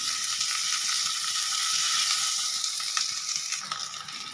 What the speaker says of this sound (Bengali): পেঁয়াজটা দেখুন খুব কড়া করে কিন্তু ভাজবো না